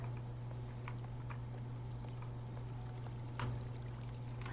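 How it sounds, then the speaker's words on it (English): Running water in a horror video game, a steady trickling pour with faint patter and splashes, heard fairly quietly over a low constant hum. "I hear water."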